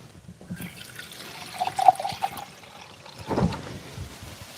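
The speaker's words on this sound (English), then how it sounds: "Actually, I'm gonna add some more water." Water pours into a pan holding soy sauce and garlic for a bean and broccoli stir-fry, a trickling splash that rises to a brief peak and then fades, with no talking.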